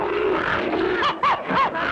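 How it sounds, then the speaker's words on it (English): A cartoon mountain lion from the 1959-60 animated series Clutch Cargo gives a string of short, loud, rasping growls and snarling roars close up, with no other sounds. "Mountain lion!"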